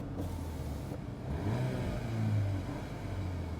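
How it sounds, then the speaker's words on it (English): A VW Golf R Mk8 in comfort mode revs from idle in two swells, a soft rumble rising and falling, fairly quiet and heard alone. "It sounds different when you're revving it."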